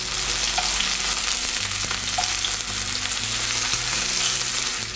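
A kangaroo fillet frying in a pan over medium-high heat, with a constant loud sizzle and spatter that carries on without a break, and no voices.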